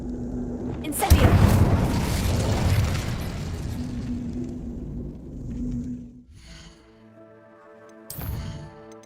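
A fire spell is cast in the Hogwarts Legacy video game: a loud burst flares up with a roaring, crackling rush that lasts several seconds, then fades as lighter game chimes and music take over, with a second sharp burst near the end.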